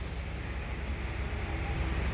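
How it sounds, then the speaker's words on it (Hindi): Daytime rain falls steadily, a dense even hiss with a low rumbling wash beneath it, continuous and unbroken with no voices. "ये देखो बारिश"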